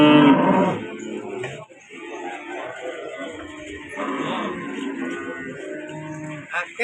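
Limousin cattle with rough coats moo at a busy cattle market, a loud drawn-out low call opening and further moos following amid crowd murmur and background chatter.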